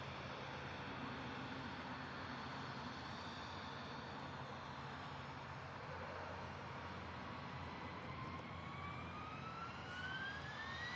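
A jet airliner engine spools up at SDF airport in Louisville, Kentucky, a faint distant broadband roar with a slowly rising whine that climbs toward the end, heard alone without talk.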